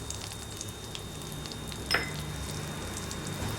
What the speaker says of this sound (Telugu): ఇప్పుడు ఆవాలు చిట్టపట్టలాడుతుండగా ఈ మినప్పప్పు శనగపప్పును వేసుకోవాలి